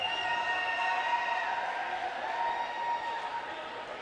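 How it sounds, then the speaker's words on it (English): Crowd noise from a high school boys basketball game in a gym, a steady sustained roar of cheering and voices filling the room at moderate level throughout, without pause. "You can hear the crowd, you can see the team getting excited."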